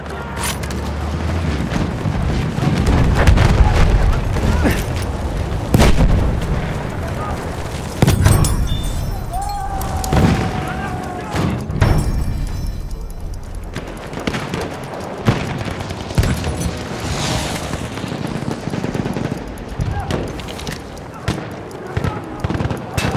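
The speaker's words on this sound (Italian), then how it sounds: "Quella è una mitragliatrice nemica!" Enemy machine gun fire rattles in Battlefield 1 on the Caporetto conquest map, with bursts of shots and heavy booms scattered through a loud, dense battle soundscape while voices shout over it.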